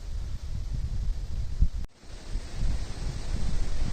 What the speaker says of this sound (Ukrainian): Ух, вітер так посилився, прям такий штормовий.